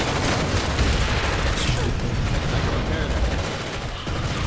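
Dense, continuous gunfire and grenade blasts from a large Planetside 2 battle, with rapid overlapping shots and booms sustained at a steady loud level throughout.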